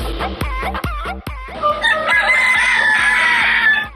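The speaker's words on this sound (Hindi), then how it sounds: "जहां मौजूद हैं नायाब नस्ल के मुर्गे और एक से बढ़कर एक कीमती मुर्गी" Rare fancy-breed roosters and prized hens on a poultry farm crow and cluck: a burst of short clucks gives way to loud, sustained crowing close by, several birds overlapping with no talk.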